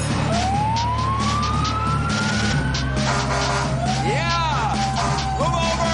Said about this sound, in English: The fire engine.